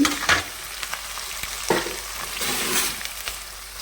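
Garlic and curry leaves fry in a pan, close crackling sizzle with sharp pops and stirring scrapes in short uneven bursts, no voices.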